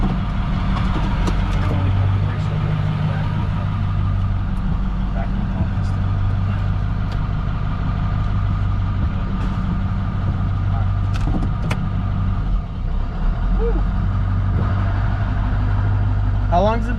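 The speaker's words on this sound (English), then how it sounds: "Fire that thing up, it's running." A Ford OBS pickup's 7.3 diesel engine idles steadily just after being started, a continuous low rumbling clatter with people talking nearby over it.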